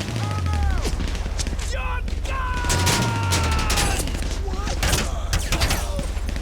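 Rapid gunfire bursts from a shootout in GTA 5 Online, with armored vehicles such as the Duke O'Death and Kuruma under attack. Steady, loud shots and rattling run throughout beneath someone talking over the action.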